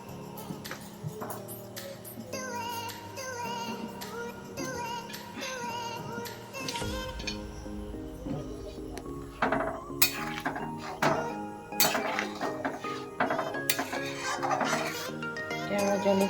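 Potatoes tumble into a pot of chicken biryani, giving a series of clattering knocks and metallic clinks against the pot, with some busy kitchen clatter first and a denser burst of clinks near the end.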